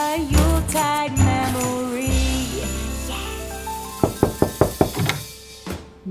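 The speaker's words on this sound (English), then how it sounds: "Knock, knock, knock." A series of about six sharp, evenly spaced knocks on a door, loud and close, following a stretch of singing with music in a Christmas program.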